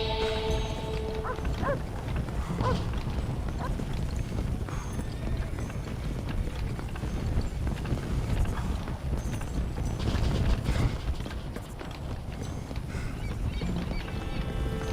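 Horse hooves in the video game Red Dead Redemption Undead Nightmare, a steady clip-clop of hoofbeats mixed with mechanical game sounds, moderately loud and continuous throughout.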